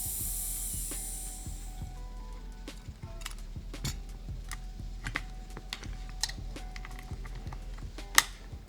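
Vacuum pump on an Ikelite 200DLM underwater camera housing releasing air at the push of its button: a steady hiss for about two seconds that fades, then a run of small scattered mechanical clicks and ratchet-like ticks.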